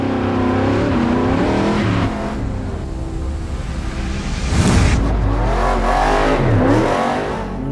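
A truck revs and roars over a dirt jump, engine pitch climbing and falling loudly with a sharp burst midway as it hits the ramp, then accelerating again, close by with no voices.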